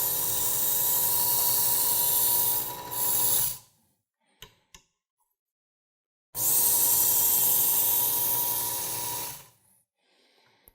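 Power knife sharpener revved up while sharpening a hunting knife: two loud, steady whirring bursts of a few seconds each, separated by a near-silent gap with faint clicks.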